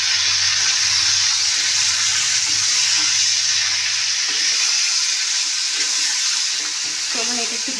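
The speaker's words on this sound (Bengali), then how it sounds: "চলুন এটা একটু ভেজে নিই" Green chillies, tomato, Kashmiri chilli powder, turmeric and salt frying together in a pan, giving a steady loud hiss and sizzle with a low hum early on and faint clinks near the end.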